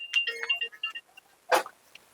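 A mobile phone ringtone plays in a shop where nylon garments are being shown, its bright electronic tones repeating for about a second before a short burst of noise, with quiet gaps between.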